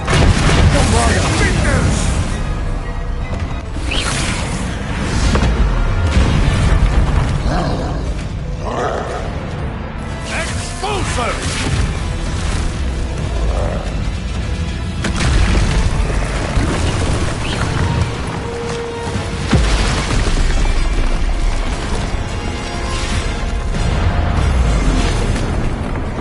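Repeated Bombarda spell explosions in Hogwarts Legacy, dense booming blasts with rumbling debris over a constant loud wash of game sound and music, with speech.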